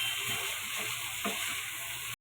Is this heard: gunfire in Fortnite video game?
no